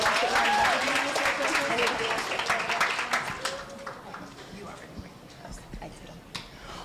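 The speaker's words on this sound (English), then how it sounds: "Can everybody give a round of applause to Spirit?" Elementary school children in grades two to four clap in a dense round of applause that starts loud and thins out gradually, with scattered voices mixed in.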